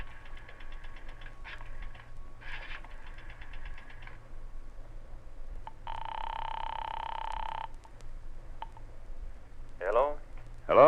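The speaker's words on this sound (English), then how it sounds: "I drove as far as the nearest drugstore, dropped a nickel in the slot, and dialed" A nickel drops into a drugstore payphone slot and a number is dialed, heard as a short series of distinct clicks and tones over a low hum, then a longer steady ring tone, with a voice briefly near the end.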